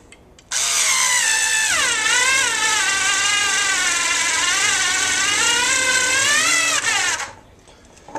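A Skil iXO electric screwdriver whirs steadily for about seven seconds while drawing a cork out of a wine bottle, its motor pitch dipping and wavering under load before cutting off.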